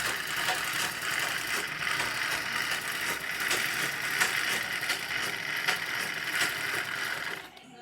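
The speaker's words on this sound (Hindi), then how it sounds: "जब ये हमारी यहाँ से चालू हो जाएगी सिलाई, फिर हम इसको कंटिन्यू चलाएंगे मशीन को" A sewing machine runs steadily while stitching along a fabric edge, a fast, even mechanical whir and clatter that continues without pause and then stops abruptly at the end.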